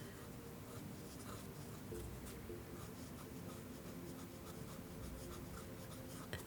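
A BENU Euphoria fountain pen writes cursive on paper close to the microphone, giving a faint, continuous scratchy rustle of nib strokes that rises and falls steadily with no speech.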